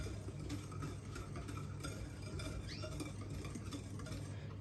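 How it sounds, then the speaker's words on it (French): Lemon zest and juice being stirred into cake batter by hand, a quiet, wet scraping and soft patter repeating steadily over a low background hum. "je viens mélanger"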